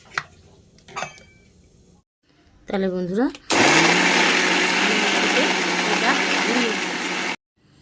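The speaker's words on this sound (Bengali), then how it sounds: "আমি এটা তাড়াতাড়ি হওয়ার জন্য মিক্সিতে বেটে নিচ্ছি" A kitchen mixer grinder whirs loudly as it grinds prawn heads into a paste, a steady high buzzing roar for several seconds that cuts off abruptly, preceded by brief clicks and a short rising motor whine.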